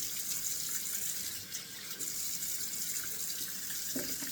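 Tap water runs steadily into a sink at close range, a continuous broadband rush with small splashes as cold water is scooped onto the face during a shave.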